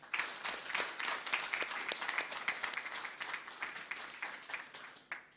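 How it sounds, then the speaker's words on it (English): Applause at a university awards ceremony for undergraduate honours recipients, a full, sustained round of clapping from a crowd that tapers slightly toward the end. "just another round of applause for all of our Ducks of Undergraduate"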